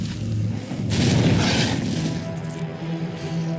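A fireball spell bursting in the video game Pax Dei, a loud, broad whooshing boom that swells in the first second and then settles into a sustained rumbling hiss that fades gradually.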